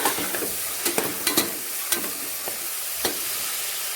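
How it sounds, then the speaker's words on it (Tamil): Onions sauté in a pan for mutton biryani, giving a steady sizzle broken by sharp spatula scrapes and taps against the metal, close and alone. "வெங்காயம் போட்டுச்சுன்னா நல்லா வதக்கி விட்டுங்க."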